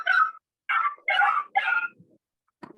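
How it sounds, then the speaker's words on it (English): A dog gives four quick yipping barks in a row followed by a short whimper, fairly loud and close, picked up over a Zoom call with no talk during the barks. "Because the dog is barking behind you and we can't hear people from them"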